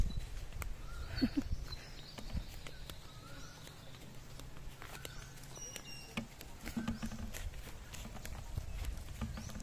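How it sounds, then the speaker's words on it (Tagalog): A goat walks on Sibay island, its hooves making faint, irregular clopping steps on the ground among quiet outdoor background noise. "Oh, kambing."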